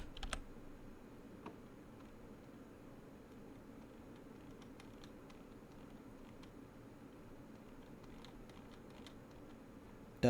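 Quiet keystrokes on a computer keyboard, a few crisp clicks early and a cluster of soft taps later, over a low steady room hiss.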